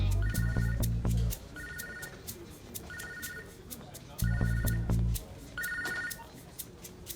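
A telephone rings in repeated bursts of an electronic bell tone during a romantic film scene, with a low musical hum swelling under some of the rings. No one speaks.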